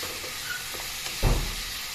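Potatoes and pointed gourd frying in oil in a pan, a soft steady sizzle with a brief louder burst of crackling midway, no voices.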